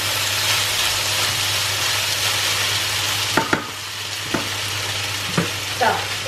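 Steady sizzling of beef stroganoff meat frying in a pan, with a few sharp clinks of a utensil stirring near the end.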